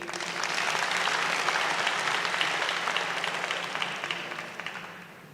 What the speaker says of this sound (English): Another round of applause for Madam Tali.